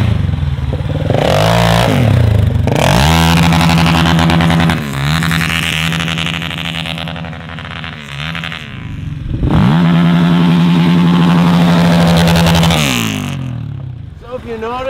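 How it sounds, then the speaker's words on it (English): A Ford TRX pickup truck roars while held on its rev limiter in mud, a loud sustained bouncing drone with repeated surges and dips, under clatter and scraping. "if you notice that whole time I was on the rev limiter"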